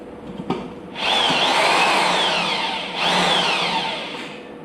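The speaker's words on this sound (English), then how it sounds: "going with the right tool for the job, the big old low-speed half-inch drill" A big low-speed half-inch corded electric drill bores out a hole in a tire, with two loud sustained whining bursts of grinding, each spinning up and slowly trailing off, close by.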